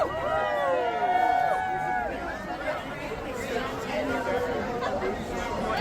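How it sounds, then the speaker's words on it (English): Dense chatter from a packed crowd at a No Kings protest, many voices overlapping in a continuous loud babble close around, with some whistles or calls rising above. "I'm just hardly able to move through the crowd at this point because there are just so many people"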